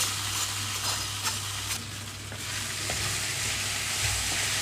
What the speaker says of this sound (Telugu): ఈ సేమియా ఉడికించేటప్పుడే సేమియా మొత్తం ఇందులోకి వేస్తున్నాను